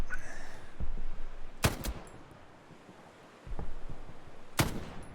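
Gunfire in the World War II shooter game Hell Let Loose: two sharp, loud shot bursts about three seconds apart over a low rumbling battlefield background, with a faint crack in between.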